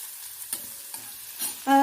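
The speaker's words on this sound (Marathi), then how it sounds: "आपल्याला हे 2 ते 3 मिनिट कांदा थोडासा मऊ होऊपर्यंत परतून घ्यायचा आहे" Chopped onion sautéing in a pan for a sprouted moong usal, with soft stirring scrapes and a faint sizzle over about two seconds, ending in a louder hiss, close and with no talking.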